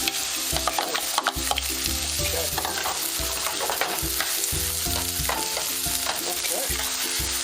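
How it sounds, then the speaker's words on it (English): Onions and garlic sauté in hot oil in a pot, a steady close sizzle broken by repeated scraping and stirring strokes throughout, with no talking. "We're going to saute our onions."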